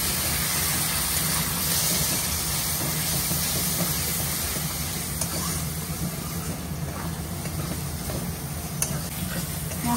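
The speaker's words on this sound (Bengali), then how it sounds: "মশলাটা কষানোর জন্য অল্প একটু গরম জল দিয়ে দেবো" Masala sizzling and hissing steadily in a pan after a splash of hot water, for a chicken dinner; a continuous loud frying hiss with steam and occasional stirring scrapes throughout, no talking.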